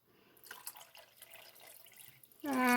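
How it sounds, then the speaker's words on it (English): Water poured into a cooking pot of pork posole, first a light trickle and splashing, then a louder, rising gush as the stream fills the pot, close by. "So I'm going to go ahead and add a little bit more water in here."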